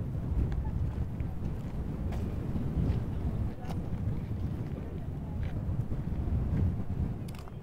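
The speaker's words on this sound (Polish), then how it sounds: "Ruiny i wiatr." Steady low rumbling wind buffets the microphone throughout at Inca ruins and terraces in Ollantaytambo, Peru, a constant roar with slight surges and no voices.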